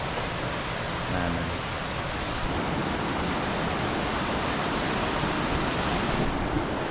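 Small waterfall at La Cazuela swimming hole in San Rafael, Colombia, a steady, loud broadband rush of falling water filling the whole clip without pause, with no clear talk over it.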